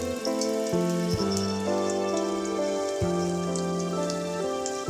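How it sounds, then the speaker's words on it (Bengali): Pakoras of telakucha leaves sizzle steadily in hot oil for an Iftar snack, a continuous close hiss running beneath prominent background music. "এভাবেই সবগুলো পকোড়া একে একে ভেজে নেব"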